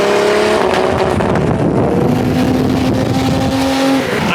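A Toyota Supra's engine roars loud and close with steady harmonic revs, the pitch dropping and then climbing again as it blips through a downshift, with a faint tire-and-road hiss behind it.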